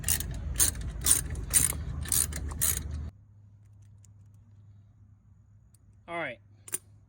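A hand ratchet clicks rapidly in bursts, loosening the T45 bolts that hold a car's front brake caliper to its bracket during a rotor and ceramic pad replacement. The clicking is close, then falls silent apart from a low hum and a brief squeak near the end.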